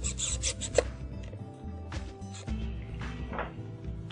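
Pocket hole jig being mounted onto a wooden board at a workbench, with soft rubbing and scraping, a sharp tap near the start and a few light knocks.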